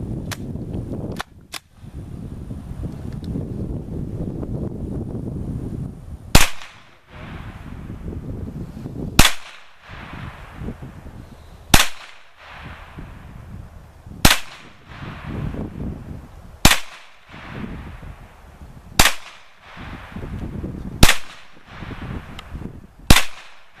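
A Beretta CX4 Storm carbine fires a series of sharp, loud single shots, about ten evenly spaced cracks each a couple of seconds apart, with a few quicker pops at the start over steady outdoor background noise.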